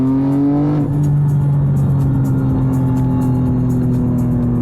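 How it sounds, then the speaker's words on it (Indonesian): A BMW G87 M2 with a manual gearbox downshifts, and the engine pitch jumps sharply as it rev-matches, then settles into a loud, steady drone heard from inside the car. "Oke deh, ini downshiftnya. Oh, dia punya rev match gila."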